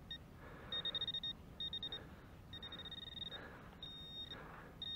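A metal detector's electronic signal tone on a search at the Blue Lakes, chirping in short repeated bursts of steady high beeps separated by brief gaps, clear and close over a faint outdoor background.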